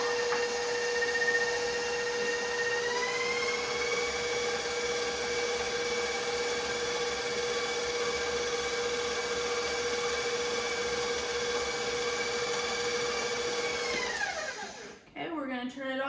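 Electric mixer whirring at a constant high pitch as it beats Oreo peanut butter cheesecake batter, droning steadily before winding down and stopping with a brief clatter at the end.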